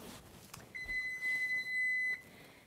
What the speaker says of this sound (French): Mon four fait bip-bip un instant.